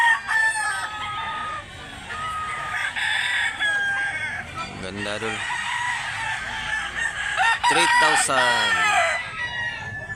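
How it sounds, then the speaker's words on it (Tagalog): Roosters, gamecocks, crow loudly several times, close by, with clucking between the calls and someone speaking briefly over them. "Gandang manok."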